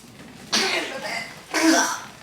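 A person sneezes or coughs twice indoors at home, two sharp bursts about a second apart, close and fairly loud, with quiet room tone between them.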